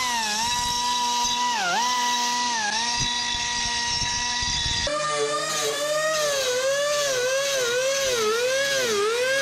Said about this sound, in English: Let me get some of these burrs out of here,